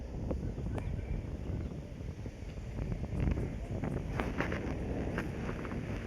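Dry wind blowing outdoors, a steady rushing roar that buffets the microphone throughout, with a few faint crackles and rustles mixed in and no one speaking.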